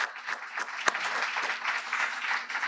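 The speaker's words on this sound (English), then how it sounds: "let's give them a round of applause" Audience applause at a community summit forum, a dense steady clapping from a large crowd in a hall, sustained and fairly loud for the whole stretch.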